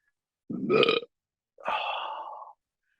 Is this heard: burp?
yes